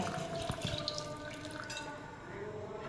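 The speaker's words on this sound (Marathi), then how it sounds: "आपल्याला अजून थंड पाणी या ताटामध्ये ओतायचं आहे." Cold water is poured into a plate up close, a short splashing, trickling stream lasting a few seconds.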